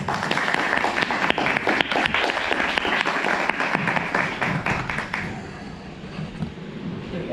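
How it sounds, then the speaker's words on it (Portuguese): Audience applause for a guest speaker at a talk on liberals in Brazilian politics: dense, steady clapping from a crowd for about five seconds, then thinning into scattered claps and room murmur. "Uma salva de palmas para o nosso convidado especial, Hélio Beltrão."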